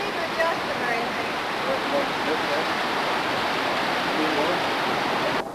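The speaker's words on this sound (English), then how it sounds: "Big little waterfall out there and everything." A waterfall on the Oregon coast gives a steady, broadband rushing roar that stays loud and unbroken throughout, with no voices over it.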